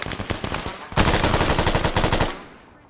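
AK rifle fire from the video game Arma, a sustained rapid burst of loud, close automatic shots that swells after a scattered start, then cuts off and rings out briefly.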